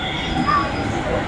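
A Delhi metro train rumbles steadily from inside the carriage, with a faint brief squeal over the running noise and people talking under it.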